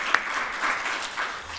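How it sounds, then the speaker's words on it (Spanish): Audience at a seminar applauding, a short burst of clapping from many hands in a hall, moderately loud, with no voices. "Muchas gracias por estos aplausos de esperanza"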